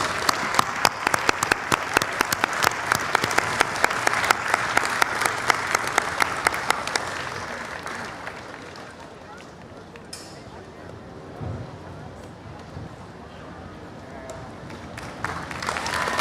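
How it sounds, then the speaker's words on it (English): An audience at the World Culture Festival in Washington applauds loudly, with dense clapping for about eight seconds, then fading into quieter crowd murmur and scattered noise. "Big round of applause, well deserved."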